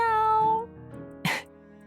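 A short vocal meow, a voice imitating a cat, is followed by a brief breathy burst in the Xia Yan storyline game, with background music underneath.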